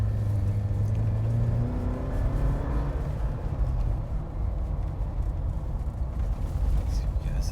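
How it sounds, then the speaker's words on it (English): Inside a Jeep Wrangler JL Recon with the 2.0-liter engine and an aFe Mach Force XP hi-tuck axle-back exhaust, a deep droning rumble rises as the engine accelerates from a start, steady and loud throughout. "Let's give you guys a little bit of what it sounds like inside the 2-liter on my Recon."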